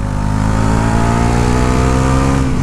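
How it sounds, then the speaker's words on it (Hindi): Bajaj Pulsar NS400Z motorcycle exhaust revving on the throttle, a loud, close, steady booming engine note with strong low harmonics held throughout. "Exhaust note is really good. Like the moment you throttle you open the gas you feel that yes"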